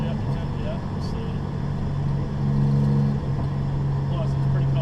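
Nissan Z sports car with a new downpipe on a cold test drive, its engine droning steadily with a low exhaust hum and slight rise in revs, heard under someone talking.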